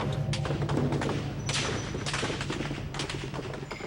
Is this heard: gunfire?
yes